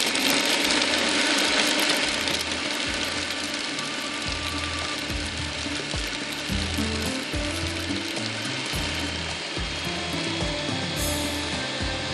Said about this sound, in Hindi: बस इसी को अच्छी तरह से पीस लेंगे।